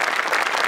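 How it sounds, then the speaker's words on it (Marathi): A brief, dense burst of audience clapping at a Marathi comedy show welcomes a performer onstage. "जोरदार टाळ्यांनी स्वागत करा."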